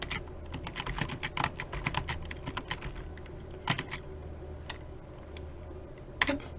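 Someone types notes on a computer keyboard, a rapid run of clicking keystrokes that thins to a few scattered taps with pauses, close and moderately quiet over a low room hum.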